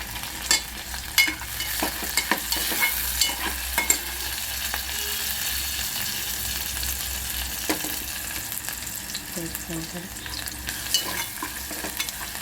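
Garlic and curry leaves fry in hot oil, a steady close crackle and sizzle with scattered pops and occasional stirring scrapes, continuous and without talk.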